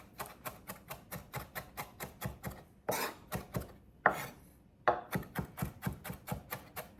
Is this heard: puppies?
no